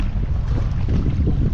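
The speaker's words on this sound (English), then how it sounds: "the wind is a lot worse" Strong wind roaring past a fishing boat out on the water, a steady low rumbling buffet across the microphone with no voices.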